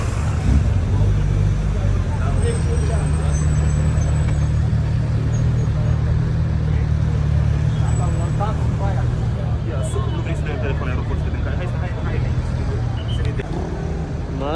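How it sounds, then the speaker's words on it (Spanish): Dense city road traffic in Madrid during a nationwide blackout: a constant roar of cars, buses and trucks with a faint air-brake hiss, loud and continuous, with voices talking over it. "todo el tráfico que hay"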